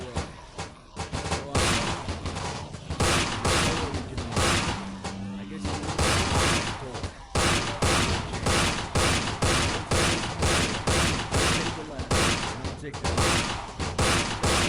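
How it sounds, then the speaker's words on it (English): Rapid bursts of gunfire in a zombie-shooting game trailer, with two men firing from inside a van at zombies climbing through the windows; dense, loud volleys repeat steadily throughout, with a voice audible beneath them. "two men standing in a van shooting at zombies coming in through the windows?"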